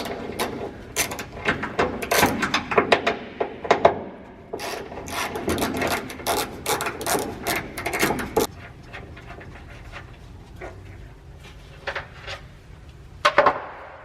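A ratchet clicks in quick bursts while 13mm nuts are removed from the rear window hinges of a 1982 Mazda RX-7, close and crisp, then quieter metallic handling and a few late clicks.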